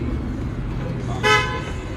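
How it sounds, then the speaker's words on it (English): A trolley horn toots once, a short, bright honk rising over steady street traffic rumble at night in the city, fairly close and loud against the background. "they start honking at the trolley in front of them"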